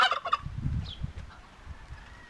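Turkeys on a small farm that also keeps chickens let out a quick burst of gobbling at the start, fairly close, followed by low background rustling and quiet noise.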